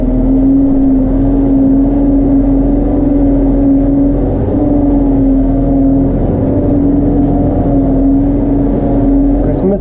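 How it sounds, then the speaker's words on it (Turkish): A loud tractor engine, a Case JX110 or New Holland TD90D, drones steadily with a strong low hum, revving slightly throughout while working in mud, close by. "Yani ileri geri yaparken bile göçüyor traktör."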